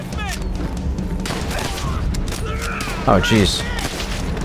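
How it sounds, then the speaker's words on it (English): In the World at War shooter campaign, a semi-automatic sniper rifle fires among loud gunfire and mechanical clatter, with one heavier burst near the end. A man briefly exclaims over the shooting. "I really hate this, like, semi-automatic sniper rifle thing they have"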